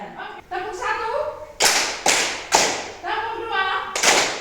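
A group claps in unison for the first clapping pattern, sharp loud claps landing at intervals between rhythmic chanted voices, with a cluster of evenly spaced claps in the middle.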